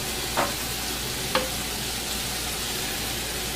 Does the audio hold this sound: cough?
no